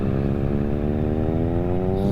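Triumph Bonneville T100 motorcycle engine droning steadily at close range while riding, a continuous even rumble holding a smooth note with a slight rise in pitch.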